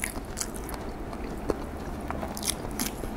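Someone bites into and chews a boiled fertilized egg with a partly formed chick inside, making soft, wet crunches and squishy mouth sounds close up, with one or two crisper bites.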